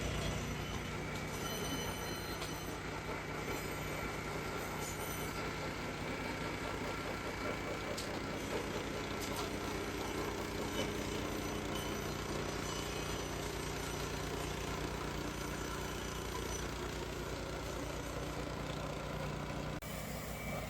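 An RLATVC Trail Blazer HD trail maintenance machine trims brush along a tight trail, its engine and cutting head producing a constant loud droning, grinding roar with metallic whine, steady for the whole stretch.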